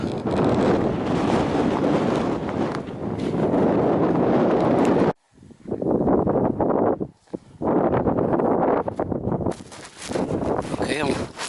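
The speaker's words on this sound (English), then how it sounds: "blowing a near gale up here" Strong near-gale wind blasts across upland moorland pasture, a loud, roaring buffeting that batters the microphone almost constantly, dropping out briefly twice before surging back in heavy gusts.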